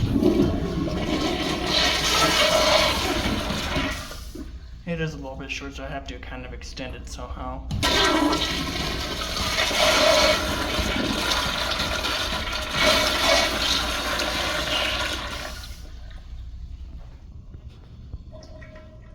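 An American Standard Afwall 1.6 gallon toilet from the 1990s–2000s, with angled rim jets, flushes with a loud swirling rush and gurgle that sustains for about fifteen seconds before tapering off, with someone talking over parts of it.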